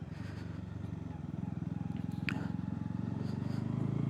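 Motorcycle riding up the entry road to a Himalayan monastery in Solan, Himachal Pradesh, its engine a steady low putter that grows slightly louder and more rhythmic toward the end, heard fairly close.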